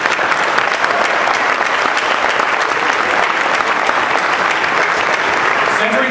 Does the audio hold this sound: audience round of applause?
yes